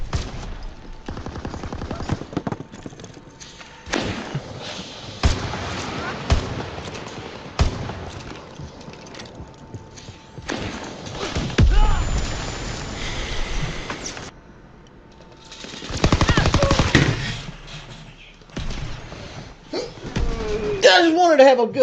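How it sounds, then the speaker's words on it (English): Rapid bursts of video game gunfire from an enemy chasing the player crackle in repeated volleys, mixed with someone talking over much of the action. "He's following me right now, shooting at me."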